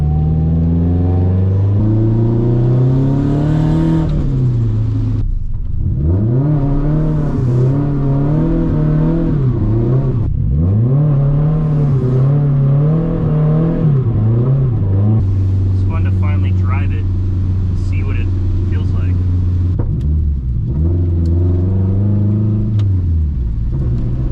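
A Nissan Silvia S14 engine drones and revs repeatedly while driving, rising and falling in pitch with brief drops between pulls, loud and close from inside the car, with someone talking over it.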